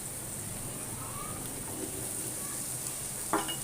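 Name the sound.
carrots and raisins frying in a pan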